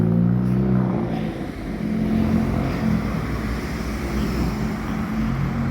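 A car passing through a residential street between houses in Bury St Edmunds, a steady low engine rumble heard fairly close with wind buffeting the microphone throughout.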